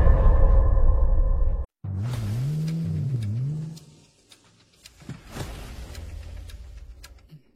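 A car engine runs steadily, cuts out briefly, then revs with rising and falling pitch as the vehicle pulls away and fades, leaving scattered small knocks and a low rumble.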